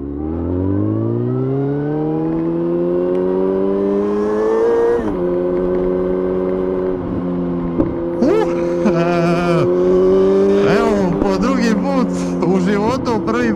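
A Kawasaki ZZR 1400 sport motorcycle is ridden hard, its engine note climbing steadily through the revs, dropping at a gear change, then revving and surging again, loud and close throughout.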